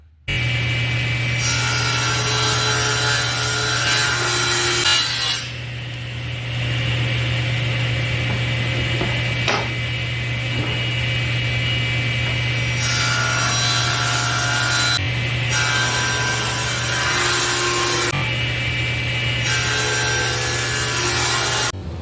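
A power saw rips wood strips for a cutting board, running in long steady passes with brief pauses and changes in pitch, loud and close, with no talking.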